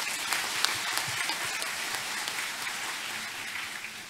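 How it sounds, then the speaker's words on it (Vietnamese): A church congregation at a feast-day Mass claps together in welcome, a moderate, fairly distant round of applause that holds steady across the few seconds, with no speech over it. "Chúng ta cùng nổ một tràng pháo tay thật lớn để chào đón nhau ạ"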